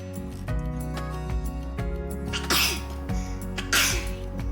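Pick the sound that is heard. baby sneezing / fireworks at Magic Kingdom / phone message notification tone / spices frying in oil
baby sneezing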